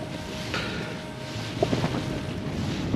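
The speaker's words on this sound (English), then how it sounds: "it is fiercely windy" Steady wind roars and buffets the microphone at a wild campsite on rocky ground, with a few faint knocks and rattles underneath, and nobody speaks.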